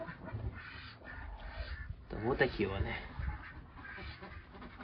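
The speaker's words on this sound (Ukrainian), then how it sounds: "Качки там на вигулі бушують" Ducks quack in a noisy cluster in their run while someone talks over them, the birds close by and busy.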